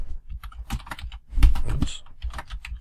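Keys clacking on a computer keyboard while text is typed into a free photo-to-video program, a quick uneven run of close, crisp taps with a busier burst in the middle and no voices.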